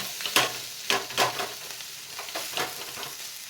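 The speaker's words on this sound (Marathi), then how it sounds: "आता मीडियम गॅसवर आपल्याला ही भाजी अशी सतत एकसारखी हलवत राहून परतून घ्यायची आहे" Drumstick vegetable is stir-fried in a pan on a medium gas flame, with a continuous soft sizzle under repeated scraping stirring strokes, close up and without speech.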